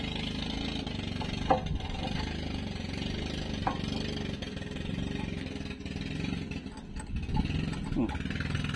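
A newly installed boat engine runs with an uneven, misfiring chug, heard outdoors at moderate distance with a steady background drone and a few small knocks.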